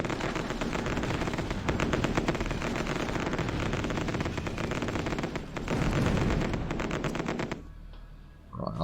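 Units in the strategy game Supreme Ruler Ultimate fire on enemies moving along a coast, producing continuous rattling machine-gun bursts with heavy booms underneath, loud and sustained before cutting off abruptly near the end.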